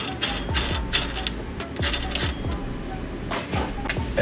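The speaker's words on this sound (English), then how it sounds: "Put the axle nut on." An axle nut is threaded onto the rear hub during a trailing arm install, giving a run of light metallic clicks and ticks at an uneven rhythm, close and fairly quiet.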